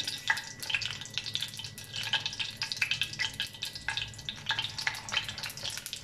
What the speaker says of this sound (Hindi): ऑयल गर्म हो चुका है, अब हम अंडे में डिप करके कटलेट्स को आहिस्ता आहिस्ता से